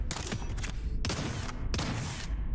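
Weapon fire in the sci-fi space game Downward Spiral: Horus Station, heard as three loud sustained bursts of rapid shots, each cutting off sharply, close and dominant with no talking.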